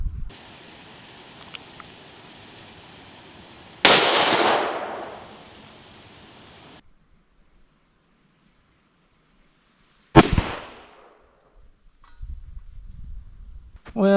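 Two sharp rifle reports fired with Remington Core Lokt ammunition, each a loud crack trailing off into a decaying echo several seconds apart, with quiet outdoor background and a brief voice at the end.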